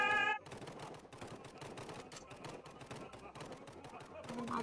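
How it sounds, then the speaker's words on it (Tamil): Rapid automatic gunfire rattles through the online shooting game Hide Online in dense, repeated bursts, loud and close, after a short tonal game chime at the start. "ஐயோ கன் சத்தம் கேட்குது."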